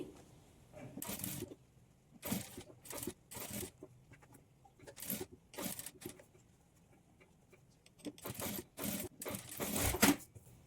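A sewing machine top-stitching the boat neck of a lehenga blouse, running in short bursts of rapid whirring separated by pauses, close and fairly quiet with no talk.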